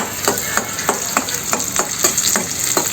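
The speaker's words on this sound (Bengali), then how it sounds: "তেলটা গরম হয় তাহলে আমরা পেস্টটা দিয়ে দেব" Paste frying in hot oil for a sour mango dal, a continuous loud sizzle cut by a regular beat of about ten spatula strokes scraping the pan, close up with no voices.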